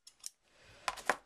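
A few light metallic clicks and clinks as a pair of scissors is picked up among craft supplies while making a card, brief and close with a soft rustle between them.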